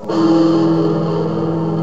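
A single sustained electric guitar chord with heavy distortion, ringing loud and steady for about two seconds with a slightly dissonant, uneasy tone.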